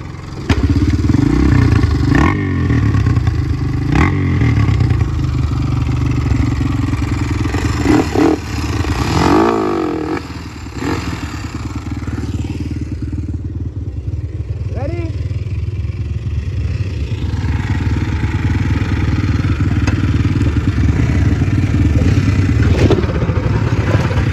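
A minibike's small engine runs and revs steadily throughout a ride to school, loud and close, with rattling clatter and a brief dip in engine pitch midway.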